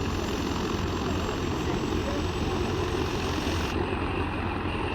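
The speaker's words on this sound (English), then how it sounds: "Look, the helicopter will be going in a minute." A helicopter at an airfield, the former RAF Sleap, runs before take-off with a steady, loud, broadband engine and rotor roar that holds unbroken for several seconds without talk.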